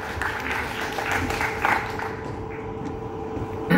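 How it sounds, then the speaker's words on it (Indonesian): Audience applause at a Prudential success-story gathering, a wash of clapping under steady room rumble that thins out in the second half, with a brief louder knock at the very end. "Tepuk tangan dulu Bang."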